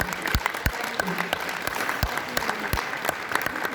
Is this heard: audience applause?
yes